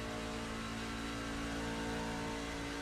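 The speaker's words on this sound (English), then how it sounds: "Maybe listen to the engine." A race truck engine in the iRacing sim, a steady loud mechanical drone with dense harmonic layers holding constant for a few seconds, heard alone without voices.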